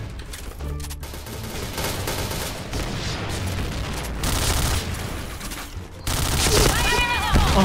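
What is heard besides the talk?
shotgun gunfire in a video game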